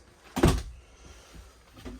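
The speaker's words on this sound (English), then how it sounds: "Let me go ahead and shut this door." A single solid RV door thud near the mic, on a 2022 Heartland Road Warrior 4275RW toy hauler, a short broadband bang followed by quiet room tone and a faint soft knock afterward.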